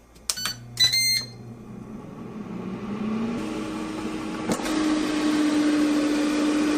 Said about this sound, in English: I've set it to air fry at 375 degrees in 8 minutes.